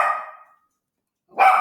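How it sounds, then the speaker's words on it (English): A dog barks indoors in a house, two separate bursts with a short silent gap between them, fairly loud and close. "And there's my dog."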